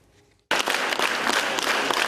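Theatre audience at a closed preview screening in a drama theatre in Rivne bursting into loud, sustained applause after a brief quiet moment, dense clapping filling the rest of the clip.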